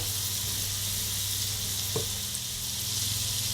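Butter melts and sizzles in a pan on a stove over medium heat, a steady soft frying hiss with one brief tap partway through, close and moderate in level, with no talking.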